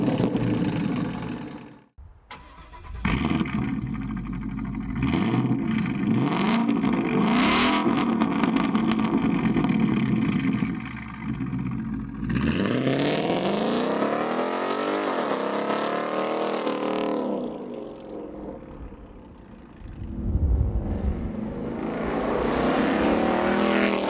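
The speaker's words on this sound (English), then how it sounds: "And removing the resonator, especially with this style muffler," A 2015-2019 Mustang GT V8 with a resonator-delete H-pipe, loud throughout: deep burbling idle, several sharp revs, then sweeping acceleration runs rising and falling in pitch, with no talking.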